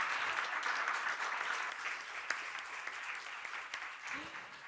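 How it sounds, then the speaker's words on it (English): Audience applause at the close of a morning debate session, steady broadband clapping from a large crowd filling the whole stretch at moderate volume. "I'd like a big round of applause for our speakers this morning."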